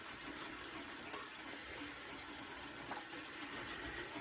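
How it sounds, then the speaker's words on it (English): Water runs steadily from a bathroom tap as hands are wetted before washing and shaving, a constant close hiss of flowing water with no voices. "I just wet my hands a little."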